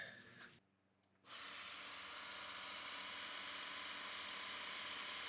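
A belt grinder fitted with an abrasive belt for knife restoration starts up after a short pause and runs as a loud, steady, high-pitched whir that holds without a break.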